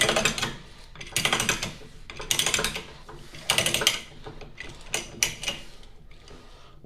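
A pipe threader backs slowly off freshly cut gas pipe threads, giving a close series of uneven clicking, ratcheting bursts with short gaps.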